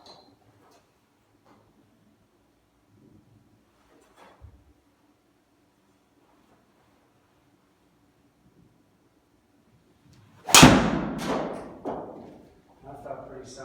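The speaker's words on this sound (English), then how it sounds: "I'm pretty pleased with the way I hit that ball." A PING driver striking a golf ball, one sharp loud impact late in the clip followed by fading ringing and a smaller second knock, with near silence before it.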